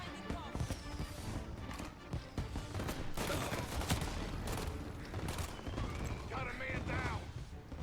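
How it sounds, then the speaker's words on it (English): Scattered gunshots ring out in Mafia: Definitive Edition, a few sharp cracks breaking through a busy, dense game mix while a person talks over them. "Who is shooting me?"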